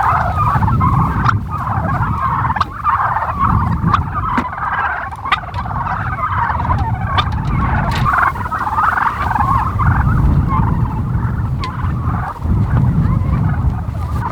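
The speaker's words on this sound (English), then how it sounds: "we've got a fresh paddock for these turkeys" A flock of farm turkeys in a fresh paddock gobbles loudly and continuously, with overlapping calls rising and falling close by and no talking.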